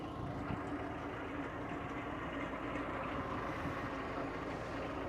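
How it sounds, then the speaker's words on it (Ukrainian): A Mitsubishi MT 337 tractor engine runs smoothly and evenly close by, a continuous steady rumble lasting about five seconds with no talking. "Робота двигуна теж дуже рівна, плавна, не димить"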